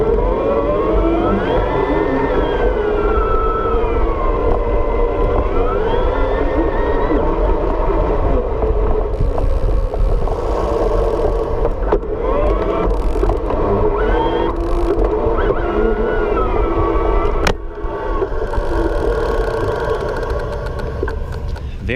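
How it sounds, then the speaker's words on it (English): Bosch Performance Line CX mid-drive e-bike motor running through an Enviolo NuVinci stepless hub, a steady loud whine whose pitch glides smoothly up and down as the ratio shifts, with a brief drop near the end. "And as I change the gearing ratio, the motor, that sound will change."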